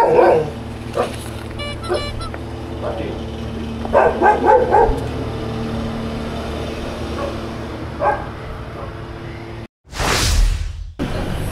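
A dog barks in a few short bursts over steady background hum, followed by a loud whooshing rush near the end.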